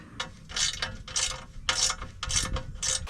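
Loud, close ratcheting of a wrench tightening bolts on an SRC bash plate for a Suzuki V-Strom 800DE motorcycle, in repeated bursts of rapid clicking.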